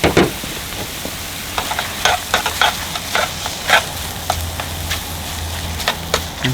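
Sour cream stirred into a sizzling wild mushroom sauce in a pan, a steady close sizzle broken by repeated scraping and wet stirring strokes at an uneven rhythm, no talking.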